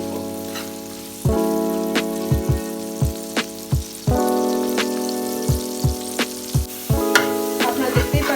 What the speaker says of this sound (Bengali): কালার আসা পর্যন্ত এটা আমি তেলে ভাজতে থাকবো।